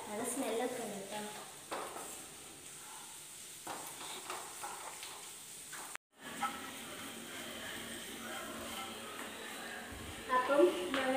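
Food frying and being stirred in a pan while cooking at home, a steady soft sizzle with scraping stirs throughout and a brief break midway.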